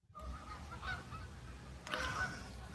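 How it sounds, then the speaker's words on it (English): Geese honking on the water at sunset, a few brief calls around the one- and two-second marks heard faintly at a distance over a steady low outdoor rumble. "you guys will see shortly the goose parade has started."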